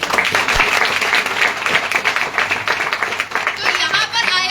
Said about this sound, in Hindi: ताली होनी चाहिए उनके लिए।